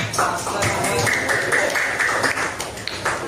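A classroom of students claps together, a short burst of quick, close hand claps with voices talking over it throughout.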